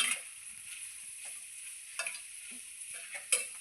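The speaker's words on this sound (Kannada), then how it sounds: "ಎಣ್ಣೆ ಫ್ರೈ ಆಗಲಿ" Oil heats and fries in a pan, a soft steady sizzle broken by a few light clicks and scraping ticks, fairly quiet and close.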